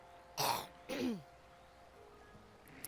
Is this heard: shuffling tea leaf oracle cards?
no